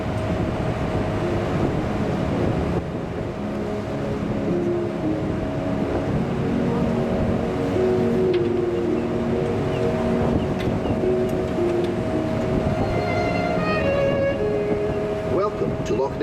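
Jacobite cruise boat sailing on Loch Ness, a steady engine drone and water rush with wind buffeting the microphone, continuous and fairly loud throughout, with a few faint tonal calls near the end.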